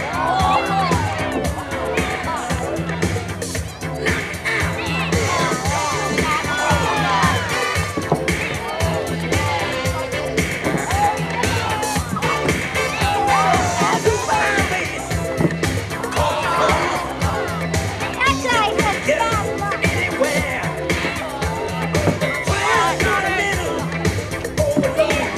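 Crowd cheering at a Little League parade, dense continuous babble with shouts and whoops from adults and children, loud and sustained throughout with voices mixed in.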